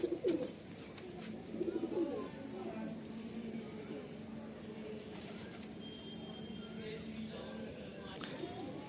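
Pigeons on a rooftop, soft cooing and bird calls at low level under a faint background, with brief clatter and rustling near the start; a voice speaks quietly at times.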